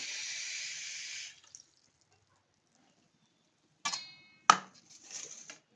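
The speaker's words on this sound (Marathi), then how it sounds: "थोडासा साफ करून घ्या दोन तीन वेळा धुवून घ्या" Fish being rinsed in water: a short burst of running, splashing water opens, followed by silence and then a few brief wet clatters and sloshes near the end, no voices.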